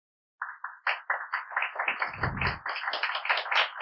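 Congregation applause at a church sermon: a burst of many hands clapping, starting in separate claps and building into dense, steady applause, fairly close and moderately loud.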